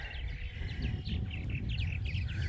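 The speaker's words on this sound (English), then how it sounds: "the birds are so noisy" Several birds chirp and tweet in quick bursts over a steady low rumble of background noise, moderately distant.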